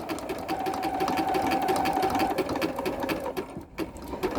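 A sewing machine stitches down a quilted hexagon placemat, running steadily at close range with a fast, even whirring hum and needle clatter that slows and stutters briefly before picking back up.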